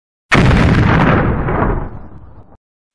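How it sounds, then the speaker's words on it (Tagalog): A loud, booming explosion bursts suddenly and rumbles on for about two seconds before cutting off. "isang malakas na pagsabog ang narinig mula sa kalangitan"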